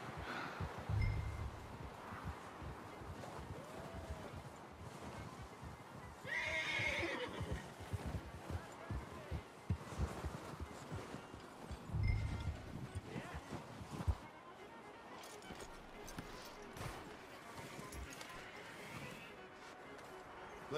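A horse in the video game Red Dead Redemption 2 gives a loud, quavering whinny, with snorts and hooves clip-clopping around it over a steady outdoor ambience.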